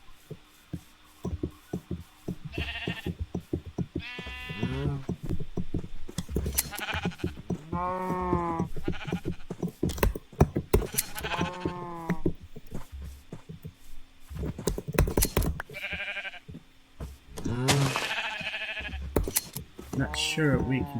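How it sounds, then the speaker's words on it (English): Repeated sheep bleats from the Minecraft video game sound in several short bursts, interleaved with a person talking over the game audio. "Oh, there's some sheep."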